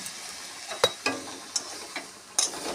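Pituli greens frying with salt in a home kitchen pan, heard as a low sizzle broken by a few sharp, separate scraping and tapping stirs spaced across the stretch.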